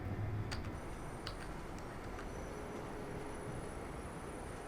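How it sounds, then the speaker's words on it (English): A train approaching through a junction in the Train Life railway simulation game, heard as a steady low rumble with faint ticking and clicking from the wheels and track, fairly distant and without talk. "The train is coming around here."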